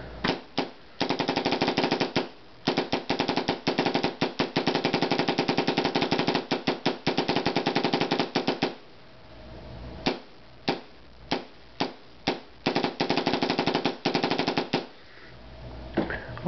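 A Daisy 98 air rifle with a FASOR conversion fires and cycles in rapid bursts of sharp, loud cracks, dense for the first half, then broken into short volleys with gaps.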